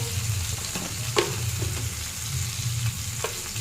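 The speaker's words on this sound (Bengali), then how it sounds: "লঙ্কা পেঁয়াজের সঙ্গে চিংড়ি মাছটা একটু ভাজা ভাজা করে নেবো।" Shrimp and vegetables sizzle in oil with a soft steady crackle, punctuated by a few sharp scraping stirs of a utensil.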